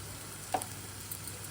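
Chicken for tamarind chicken fries in a pan, giving a steady, soft hiss of sizzling with one brief click partway through; no voices.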